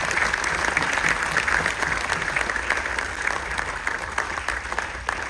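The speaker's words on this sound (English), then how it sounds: "So give them a round of applause" Crowd aboard the cruise ship Carnival Dream applauding war veterans, sustained even clapping from many people throughout, moderately loud with a faint voice underneath.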